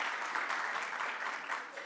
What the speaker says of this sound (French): On l'applaudit, Madame Rim Ajam.